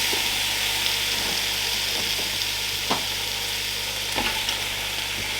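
Onions and garlic frying in a Ninja Foodi Max multicooker pot, a dense continuous sizzle close up with a few faint stirring clicks and no talking.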